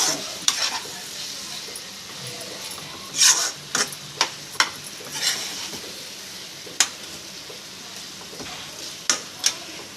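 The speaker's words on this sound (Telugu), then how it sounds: "సో వంకాయ పట్టాలి కదా, పౌడర్ అంతా కలుపుకుందాం." Stuffed brinjal curry with peanut powder is stirred in a pan, scattered sharp scrapes and knocks of a spoon over a faint background sizzle, close by and without speech.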